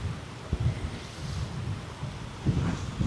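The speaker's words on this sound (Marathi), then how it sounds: "एवढी मोठी लाट आली ना आता इकडे इकडून असं" Sea waves surge and wash onto Bhogave Beach in a steady low roar, with brief louder swells and wind buffeting the microphone.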